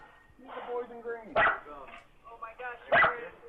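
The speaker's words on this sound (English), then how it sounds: "The dog's freaking out." Agitated dog barks loudly twice among a scene of police outside a house, the sharp close barks standing out over ongoing chatter and movement between them.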